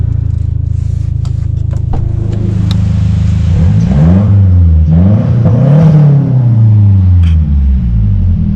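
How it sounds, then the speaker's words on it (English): A 10-year-old Mazdaspeed3 with an aftermarket exhaust and an HKS blow-off valve revs loudly. Its deep, steady rumble climbs and falls through several rev sweeps, with faint clicks and whooshing from the engine bay. "So you definitely can hear that blow-off valve under there from HKS"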